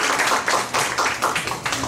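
Audience clapping at a university teaching-methods lecture, greeting the lecturer's entrance with a brisk, fairly loud burst of many hands that sustains across the short moment.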